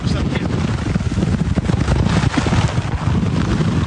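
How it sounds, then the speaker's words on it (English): A strong coastal wind gust, estimated near 70 mph, roars as dense, loud buffeting noise against the microphone with rumbling low end for the whole stretch. "there's one of those gusts that had to be close to 70 miles an hour"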